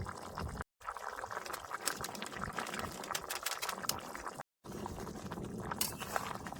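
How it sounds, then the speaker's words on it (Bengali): A pot of fish curry with elephant foot yam and potato bubbles and simmers on the heat, giving a steady soft boiling hiss with small liquid pops and an occasional clink, close and fairly faint. "তরকারি দেন ভালো মতন ফুইটে সুন্দর জাল হয়ে গেছে"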